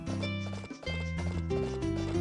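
Horse hooves clip-clop in the GameCube farming game Harvest Moon: Another Wonderful Life, over a steady layer of game music, moderately loud throughout.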